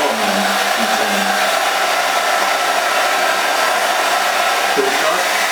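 A cheap Kmart travel hair dryer runs on its second setting close to the mic, giving a loud, steady whooshing roar with no pauses for the whole stretch.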